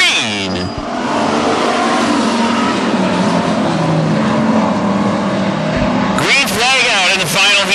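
WISSOTA street stock race cars roar around Ogilvie Raceway in a heat race, a loud, dense engine wash rising and shifting as the pack passes, with announcer talk over the noise throughout.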